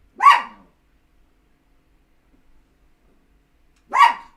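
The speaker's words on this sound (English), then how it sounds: "She's not gonna stop barking?" A dog barks twice indoors in a home, two loud, close single barks about four seconds apart with silence between them.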